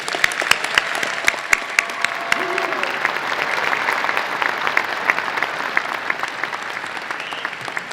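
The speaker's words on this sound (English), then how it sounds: "a big, maybe almost rousing round of applause" Commencement audience applauding families and friends, a sustained dense round of clapping from a large crowd in a hall, steady and fairly loud throughout.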